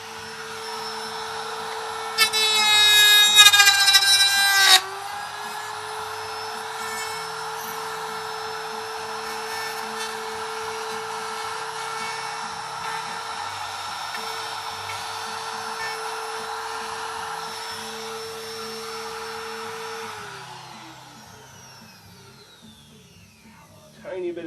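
A power tool cutting into the wood of a PRS guitar body to fit an EverTune bridge: a sustained high whine with a louder biting burst early on, then a steady drone that winds down near the end.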